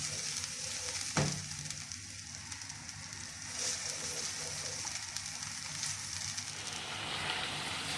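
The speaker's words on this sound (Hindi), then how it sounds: "इसको 5 से 7 मिनट के लिए मैं तेज़ आंच पे इसको भून लूँगी" Malai chicken curry being fried hard over high heat, with a steady, dense sizzle and crackle that runs throughout at close range, with no voices.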